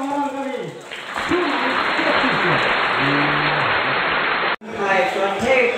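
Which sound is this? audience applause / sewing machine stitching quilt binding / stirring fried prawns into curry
audience applause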